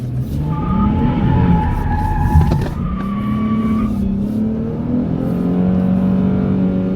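A Dodge Challenger accelerates hard, its engine loud and close, rising in pitch through a gear, dropping at a shift, then climbing again in a strong, sustained roar.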